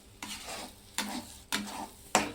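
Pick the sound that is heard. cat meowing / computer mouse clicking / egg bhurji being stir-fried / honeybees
egg bhurji being stir-fried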